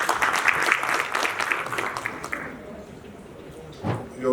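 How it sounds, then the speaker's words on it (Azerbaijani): Audience applause at an international food and agribusiness forum, a burst of clapping from a crowd in a hall that fades after a couple of seconds, followed by a brief voice. "Alqışlayın zəhmət olmasın."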